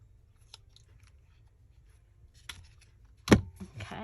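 Scissors cutting through book paper for a crafted tag, a few faint snips early then louder crisp crunching cuts near the end in a quiet room.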